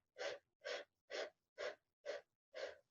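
Six deep, rhythmic breaths during a pranic meditation exercise, each a close, airy rush of about a third of a second separated by short silences, evenly paced and alone.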